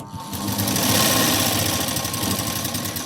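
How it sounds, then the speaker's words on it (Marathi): A sewing machine stitches a katori blouse, running in one loud, steady, rapid mechanical whir for a few seconds with no talking. "ही क्रॉसपट्टी थोडी पुढं आली आहे, तर इथून मी ही शिलाई देऊन घेते"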